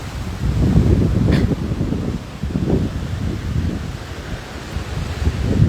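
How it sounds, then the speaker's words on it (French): Strong outdoor wind buffets the microphone in a steady, loud roar with gusty swells and rumbling low-end noise, no speech heard over it. "J'essaie de trouver un endroit où il y a moins de vent."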